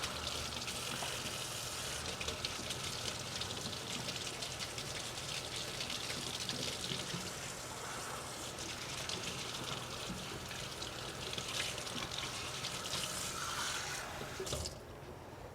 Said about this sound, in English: So I need some cold water.